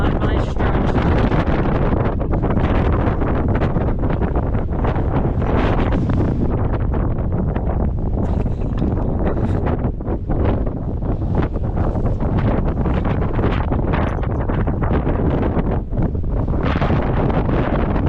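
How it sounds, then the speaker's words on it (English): Strong, steady outdoor wind buffets the microphone throughout a construction build, a constant loud roar with gusty fluctuations. "It is more than a little bit windy out here today"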